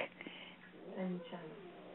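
A talkative house cat lets out a couple of soft, wavering meows at close range, mixed in with a person talking nearby.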